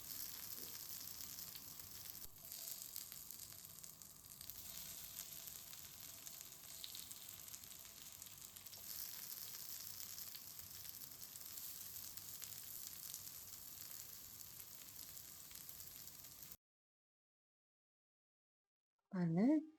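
Potato veg cutlets fry on a hot dosa griddle with little oil, a soft, steady hiss of close but quiet sizzling that runs on without a break before cutting to silence and a brief voice.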